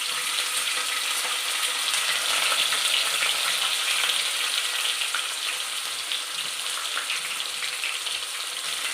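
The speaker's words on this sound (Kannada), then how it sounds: "ಈಗ ಈರುಳ್ಳಿ ಹಾಕ್ತಾಯಿದ್ದೀನಿ" Sliced onions sizzle steadily in hot oil with a bay leaf in a pan, a dense continuous frying hiss that stays loud and close throughout without pause.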